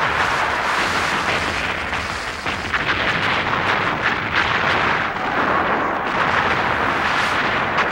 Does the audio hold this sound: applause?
no